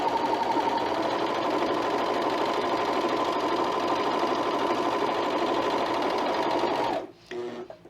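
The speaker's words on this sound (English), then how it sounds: "now we have our Picot edge there with the serger" A serger stitching a picot-edge elastic runs in one continuous fast, even whir for about seven seconds, close up, then stops abruptly, leaving a brief softer mechanical rattle.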